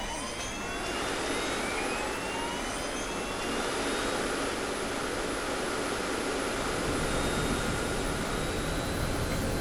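A loud, steady roar of a rescue helicopter's engine and rotor as it takes off in the game Emergency 4, constant and close, with a high whine running over the top.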